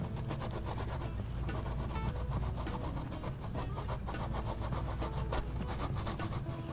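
Zucchini is rubbed against a grater in quick, steady scraping strokes, a dense repeated rasping that stays close and fairly quiet with no talking.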